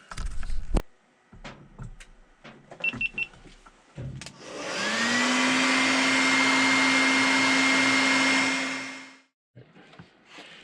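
A heat gun heat-setting paint on a rat fishing lure, switched on with a rising whine into a steady, loud blowing roar for about five seconds before cutting off, with small handling clicks and taps before and after.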